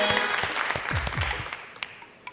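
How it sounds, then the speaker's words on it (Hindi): Studio audience applause on a talk show: a brief burst of clapping with a few low thumps at the start, fading out into scattered last claps within a couple of seconds. "तालियां"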